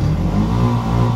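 Engine of a water-flooded Bajaj BS6 motorcycle with a P0563 misfire fault, revved hard with the accelerator, a steady loud close-up drone held throughout.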